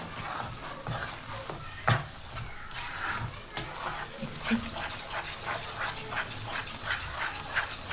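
Chicken Afghani chaap is stirred in a cooking pan with spices and a little sugar, giving scraping utensil strokes and soft sizzling, with a few louder knocks against the pan.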